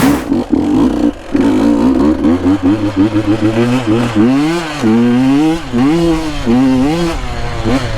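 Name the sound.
2022 KTM 150 dirt bike riding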